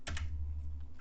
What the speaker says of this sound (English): if you hit spacebar